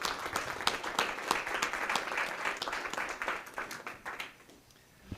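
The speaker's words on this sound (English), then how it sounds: "we just want to give you a round of applause" A crowd at a Centennial School District ceremony applauds honorees, dense clapping with sharp distinct claps throughout, fading away near the end into quiet.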